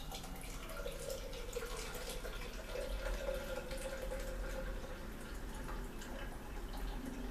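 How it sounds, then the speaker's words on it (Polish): Hot water drains from the tap of a home-brewing kettle while making juniper beer, a faint steady trickle and splatter running continuously for several seconds, with no talk. "Wylałem trochę gorącej wody"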